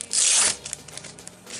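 A Fortnite sticker packet ripped open in one quick, close, bright tear lasting about half a second, followed by faint paper rustling.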